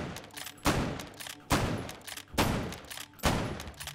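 Bolt-action rifle fired in the VR shooter Hot Dogs, Horseshoes & Hand Grenades: four sharp, loud, close shots at a steady pace, each cracking out and then decaying before the bolt is cycled for the next.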